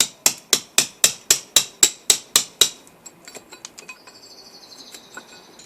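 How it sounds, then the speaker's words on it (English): A hammer and chisel raking out old black mortar from a garden brick wall, ten sharp evenly spaced metallic strikes up close, then quieter scraping and light taps with faint birdsong in the background. "So you alter the chisel angle as you go, so you get in and you bring it across, find your depth."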